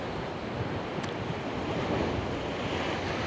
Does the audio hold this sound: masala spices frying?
no